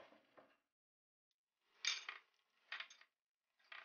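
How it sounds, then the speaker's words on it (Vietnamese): Pork ribs dropped one by one into a pot while cooking Hanoi-style sweet and sour ribs, giving three or four separate clattering clinks with short silences between them. "Cụ mợ cứ thả sườn từ từ vào cho cháu."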